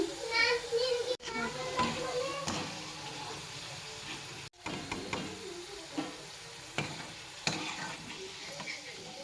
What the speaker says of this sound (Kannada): ಈ ಥರ ಫ್ರೈ ಮಾಡ್ಕೋಬೇಕು ನೋಡಿರಿ ಕರಮ್ ಕುರಮ್ ಬೇಕಂದ್ರೆ